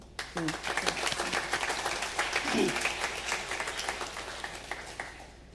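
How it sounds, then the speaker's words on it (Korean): A church congregation at a Sunday service gives a sustained round of welcoming applause, many hands clapping steadily at moderate distance with a little voice over it. "일어나시면 환영하는 박수."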